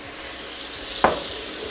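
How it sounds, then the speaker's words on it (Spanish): Chopped onion sizzling in rendered bacon fat in a pan while cooking lentils, a steady close frying hiss with one brief louder crackle partway through. "vamos a acitronar la cebolla a que quede un poquito transparente en la grasita que soltó el tocino"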